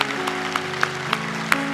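A church congregation at a Korean Christmas thanksgiving service applauds after an infant baptism, a steady wash of many hands clapping with faint sustained musical tones underneath.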